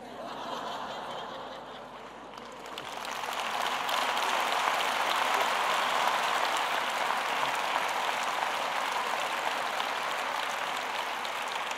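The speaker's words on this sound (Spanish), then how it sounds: "ahora como no compito ya podéis aplaudir todo lo que queráis" Applause from a large crowd at a political rally in Spain swells after a brief lull into a dense, sustained wash of clapping that carries on steadily, with scattered chuckles mixed in.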